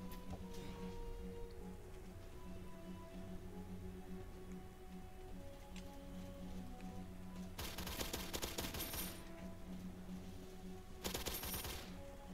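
Two bursts of rapid automatic gunfire from a gun in the video game War Age Tycoon rise over a steady, rain-like background hum, the first longer, the second brief near the end.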